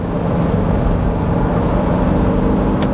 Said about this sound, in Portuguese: O barulho do motor acaba invadindo um pouco mais aqui dentro